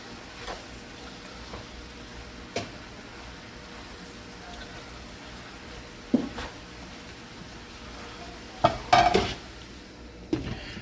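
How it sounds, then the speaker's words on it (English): A utensil scrapes and stirs sausage meat into cabbage in a pan, with soft clinks and a few louder knocks against the cookware under a low kitchen hum. "So let's go ahead and get that meat mixed in."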